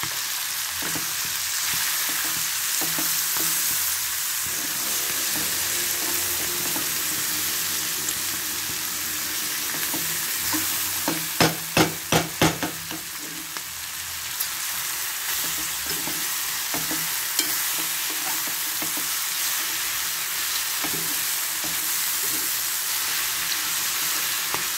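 A potato and pea curry fries in a pan with very little oil, giving a steady loud sizzle, with a short run of spoon scraping and stirring in the middle.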